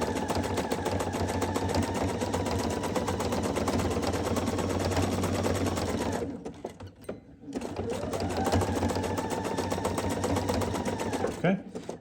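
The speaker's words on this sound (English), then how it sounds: "So I'm sewing all the way around the outside edge of the patch" A sewing machine stitching around the edge of a patch on an Original Bag Lady canoe cover runs in a fast, even mechanical whir. It stops briefly partway through, then starts again, with a voice talking over it.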